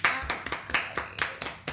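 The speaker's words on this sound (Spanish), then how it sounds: "Un aplauso." Steady, close hand clapping at a brisk, even pace, about eight or nine sharp claps, welcomes a podcast guest, the artist Agostina Justo, with no voices over it.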